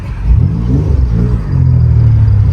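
A turbocharged Acura TL-S accelerates on its first hard pull, heard from inside the car as a loud, steady engine drone that swells and holds, rising in pitch near the end.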